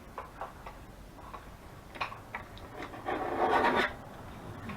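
Paper being trimmed for journal pockets, a few soft scraping and rasping cuts in short bursts, fairly faint and close, with no voices.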